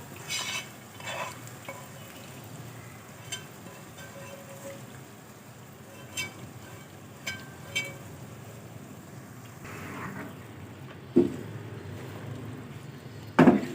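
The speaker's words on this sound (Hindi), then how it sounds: "अब हम इसको अच्छी तरह से मिक्स करेंगे" A spoon stirs soaked dal mash (urad dal) into fried spices in a pan, with soft scraping and shuffling throughout and a few sharper clinks near the end. Nobody talks.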